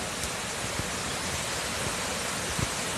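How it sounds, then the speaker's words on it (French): The Pissoire waterfall in the Vosges, a steady broadband rush of falling water that stays constant and fairly soft throughout, with no one speaking. "moi j'entends bien l'eau en tout cas"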